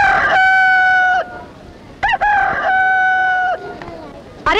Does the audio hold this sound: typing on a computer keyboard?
no